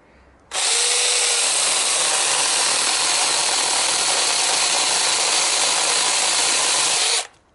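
A Mensela 18V battery mini chainsaw with a new 6-inch chain revs up and cuts steadily through wood for about seven seconds, loud and close, then cuts out abruptly.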